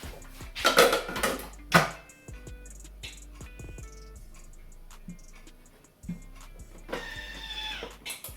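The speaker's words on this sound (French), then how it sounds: "on va insérer le couvercle et le gobelet" A plastic lid and measuring cup set onto a Thermomix kitchen machine, giving a few close clattering knocks and scrapes followed by clicks and a short whirring rattle, with no talking.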